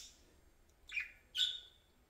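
Pet budgies chirp indoors with two sharp, bright calls close together, over quiet room noise and a faint high twittering.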